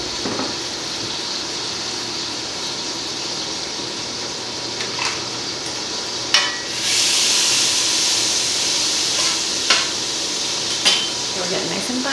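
Butter sizzling in a pan on a home stove while breakfast burritos are made, a soft steady hiss with occasional clinks of a utensil against cookware, and the sizzle swelling louder partway through.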